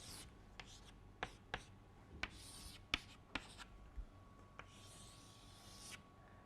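Chalk or a marker strikes and scrapes across a board as a lecturer draws a diagram, a series of sharp taps and short rubbing strokes at irregular intervals, moderately close and faint, with no talking.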